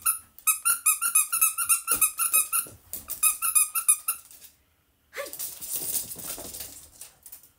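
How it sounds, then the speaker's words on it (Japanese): A newly bought squeaky dog toy is squeezed over and over, giving quick, high, close squeaks in a rapid rhythm for about four seconds, then a softer, noisy rustle after a short pause. "これ犬のおもちゃ。"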